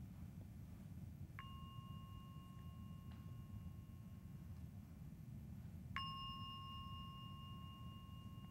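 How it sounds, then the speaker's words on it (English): A meditation gong is rung twice at a retreat, each strike a clear, sustained ringing tone fading slowly over a quiet room hum, the second strike louder than the first. "And I'll ring the gong 3 times."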